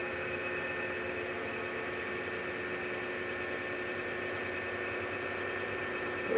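A balancing machine spins a rotor out of balance at 5,000 RPM, giving a steady, even mechanical hum with a constant high whine, unchanging throughout and close by.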